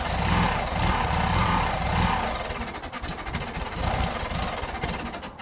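A VW Beetle TwinPort engine with a rubbing fan runs close by with a loud, rough idle that turns choppy and uneven toward the end, sputtering in irregular pulses as if low on fuel.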